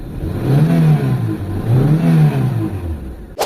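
A Mitsubishi Lancer GLXi engine with many damaged major parts revs up twice in smooth rising and falling swells over a steady idle, ending with a brief clatter.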